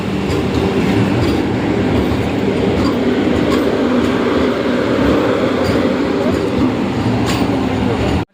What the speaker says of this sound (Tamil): நம்ம ட்ரெயினை பார்த்தோம்னா பிளாட்ஃபார்ம் நம்பர் 4 ஸ்லோவாக என்ட்ரி ஆகிட்டு இருக்குது